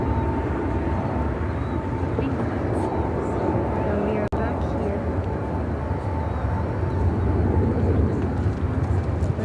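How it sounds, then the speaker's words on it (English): A Jordanian Boeing 787-8 Dreamliner taking off from Chicago O'Hare produces a sustained, fairly loud jet roar that stays even throughout, broken by one sharp click midway, with some voices in the background. "Jordanian 266 taking off to Aman on the 787-8 Dreamliner."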